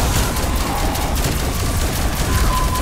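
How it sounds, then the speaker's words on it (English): Dense, continuous gunfire from a Call of Duty zombies match, a loud sustained barrage of rapid shots blending into a roaring wash of noise with no pauses. "Stop fucking firing at me."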